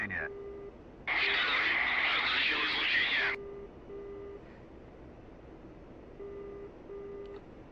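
Steady low electronic radar warning beeps in the DCS flight simulator repeat in short even pulses, broken by a loud burst of static-like noise for a couple of seconds, then the beeping resumes.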